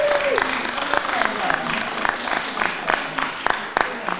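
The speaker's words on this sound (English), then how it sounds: "So please, round of applause." A small audience at a live-streamed gathering claps in brief, scattered bursts beneath a speaking voice, fairly quiet and close.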